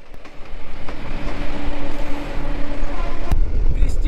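The Tebhaga Express rolls between Rampurhat and Murarai with a loud, continuous rumble and rattle of carriages, heard from inside, with a sharp knock near the end.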